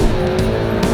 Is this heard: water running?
no